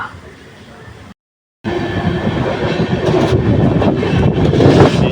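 A passenger train from Guntur to Ernakulam running along the line, a brief low rumble that cuts out, then a loud steady roar with rattling wheels and some clatter.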